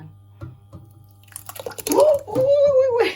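Liquid is poured from a can into a pot of fish ball curry broth for Thai rice noodles, splashing and gurgling loudly up close as someone talks over it.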